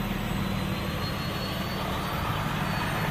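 A 2011 Toyota 1.8 engine idling after a head gasket replacement, a steady even hum and whir held close and constant throughout, with no talking.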